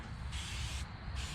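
Bursts of spray from a bottle misting oxidation remover over the faded, oxidized paint of an old Bobcat machine: two long hissing sprays with a short pause between, close and steady over a low background rumble.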